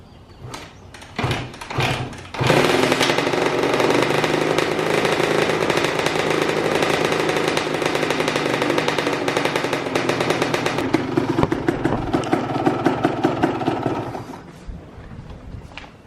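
A Kawasaki KX125 two-stroke dirt bike gives a couple of short sputtering bursts, then catches and runs loudly and raggedly for about twelve seconds while warming up, revving unevenly before dropping away.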